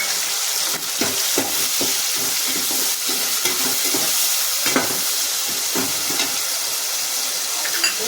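Onion ground with ginger-garlic paste and salted, sautéing in a pan for home-style chicken curry: a loud, continuous close sizzle broken by repeated scraping stirs of a spatula.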